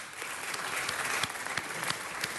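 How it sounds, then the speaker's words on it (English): A council chamber audience applauds a school team at a Los Angeles City Council meeting, a steady patter of many hands clapping with a few sharper individual claps standing out. "Let's give them another round of applause."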